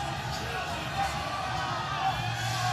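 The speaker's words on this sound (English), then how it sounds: "You can hear the crowd yell," A crowd at a weightlifting-style sports meet yells and chants from a distance, a continuous roar sitting under a commentator's voice.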